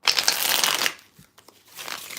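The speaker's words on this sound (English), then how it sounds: "Let's give them a shuffle." Tarot or oracle cards are shuffled by hand in a quick riffling burst of papery flutters lasting about a second, close to the listener, then a short pause with light handling sounds and another softer shuffle.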